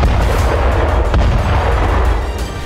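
A tank blows up in war footage from Gaza: a loud, sustained rumbling explosion roar filling the whole stretch, heavy and close with no voices.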